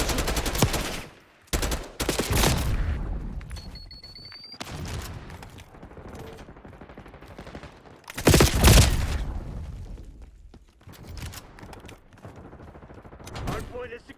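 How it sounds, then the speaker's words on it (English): Hostile gunfire in the Black Ops 6 video game: several loud bursts of automatic fire and fusillades arrive in clusters, with quieter stretches between and brief voice chatter mixed in. "Hostile shooting."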